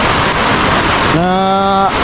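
Dense, steady roar of heavy typhoon rain pouring down in Bicol, loud and continuous, with a short tonal whine cutting in near the end.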